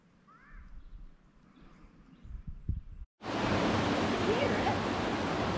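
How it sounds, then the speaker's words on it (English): Underground river waterfall in an outdoor park setting, a steady loud broadband roar filling the second half after quieter ambience with distant talk and footsteps. "Yeah, we can hear the waterfall, but you can't really see it."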